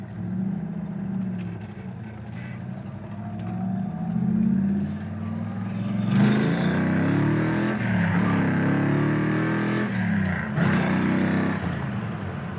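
1970 Plymouth Barracuda driving, its engine droning steadily with rising and falling revs as it shifts through gears, loud and close from inside the car.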